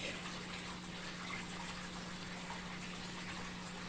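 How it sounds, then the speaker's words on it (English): A washing machine draining its water into a sink, a steady close gush and pump hum that runs evenly without a break. "my washer's draining and it drains into a sink"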